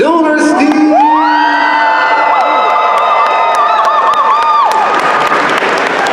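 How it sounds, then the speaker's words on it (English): A large convention crowd cheers and applauds loudly for a voice actor, with whoops and high children's shouts riding over steady clapping that fades slightly toward the end. "now with a round of applause for Keith Silverstein"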